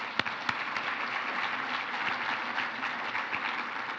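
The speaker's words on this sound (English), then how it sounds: "Let's give him a round of applause." Audience applause at a sustainability summit session, a steady wash of clapping from a large room with a couple of sharper claps standing out near the start, continuous and moderately loud throughout.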